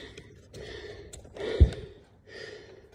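Heavy, labored breathing after a workout: three clear breathy bursts with a sharp gasp near the middle, close and fairly loud, with no talk.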